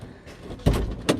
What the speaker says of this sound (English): and opens with the inside handle